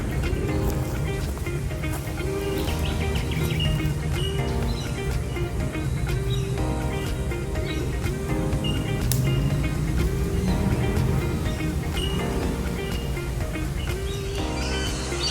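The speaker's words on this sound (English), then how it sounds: "And there's a lot of noise from the birds in this section." Birds chirp and call repeatedly in Sydney bushland, a busy overlapping chorus of short tweets and whistles at moderate distance, continuous throughout over a low background hum.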